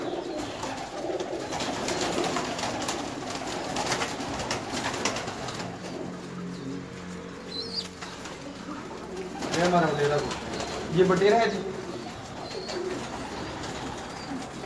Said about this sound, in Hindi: ये बहुत अच्छा कबूतर है अपने आई साइन में